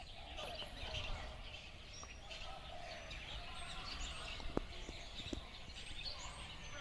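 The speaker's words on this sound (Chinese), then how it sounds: "鸟叫的声音也是非常多的" Many birds call from trees at night in rural China, a dense chorus of chirps and calls heard at a distance under a low outdoor background, with a few sharper clicks.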